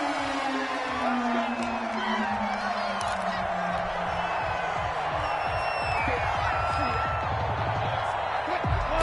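Stadium crowd noise from a PS4 American football video game featuring the Seahawks, a loud continuous roar of fans with scattered whoops and cheers.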